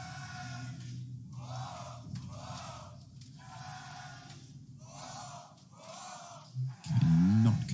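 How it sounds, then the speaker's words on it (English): Crowd at an esports arena during a CS:GO match, cheering and chanting in rhythmic bursts that repeat steadily, with a loud, close voice breaking in at the end. "the crowd are absolutely behind him right now"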